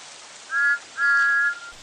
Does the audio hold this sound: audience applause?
no